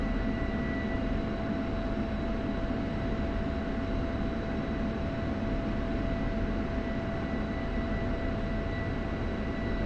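An F-16 taxiing in a flight simulator game gives a steady, even jet engine whine and rumble with a constant tone throughout, with no talk.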